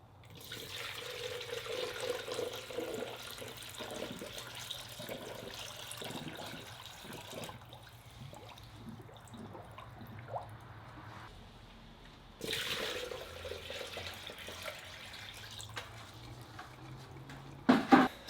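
Water trickles and gurgles as it is poured into the radiator of a roughly 20-year-old Subaru WRX wagon, a soft, steady flow that stops partway and resumes with a brief splash near the end.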